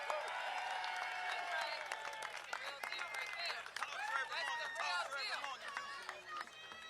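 An audience at an anniversary celebration applauds for honoree Kathy Hughes, with dense, steady clapping mixed with scattered cheers and crowd murmur, fairly distant and even in level.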